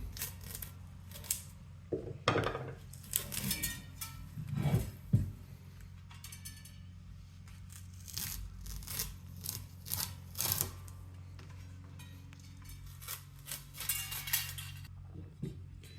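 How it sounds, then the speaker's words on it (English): Old rim tape peeled and tugged off a bicycle wheel rim during a broken-spoke repair, giving a run of scattered crackling rips and small clicks, close and fairly quiet, with no talk. "I'm going to take this tape right off"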